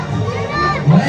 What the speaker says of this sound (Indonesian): Dengan teriakan takbir